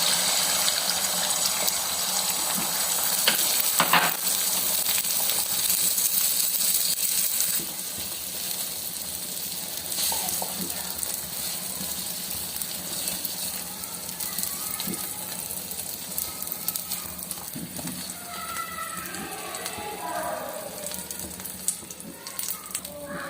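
A Maggi noodle egg omelette sizzles in hot oil in a pan, a loud, continuous crackling hiss that eases slightly partway through and carries on with scattered pops.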